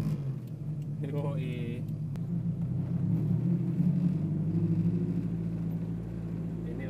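A Honda Civic Estilo with a B16B engine rumbles low and steady while driving slowly in traffic, heard from inside the cabin with people talking over the drone.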